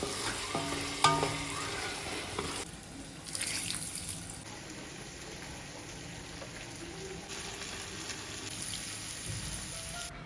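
Onions frying in ghee for a biryani dum, giving a steady close sizzle that holds evenly throughout, with a short burst of stirring near the start.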